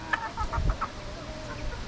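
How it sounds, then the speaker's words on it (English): Soft clucks and short chirpy calls from several pullets and young roosters, scattered and fairly faint, with low rustling and thumps underneath. "Got several pullets in here."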